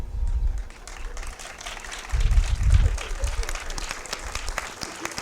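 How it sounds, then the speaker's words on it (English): Audience applause for guests asked to stand at a morning museum rebranding announcement, with scattered clapping that swells briefly mid-way and voices murmuring under it. "Let's give her a big round of applause"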